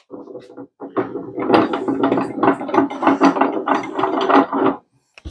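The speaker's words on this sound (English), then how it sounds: "So now that I got the bar clamps clamped down" Bar clamps ratcheting down on a glued wooden tabletop, a loud, close run of rapid grinding ratchet clicks that lasts several seconds and then cuts off.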